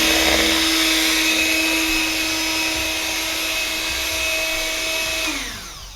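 An electric mixer blends a Crisco mix with a loud, steady motor whine that holds for several seconds, then winds down and fades out at the end.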